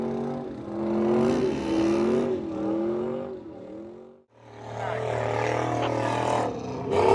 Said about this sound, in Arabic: شوف راح الباجيرو لا يرجع يكسر من هنا، يطلع من فوق ويرجع من ورا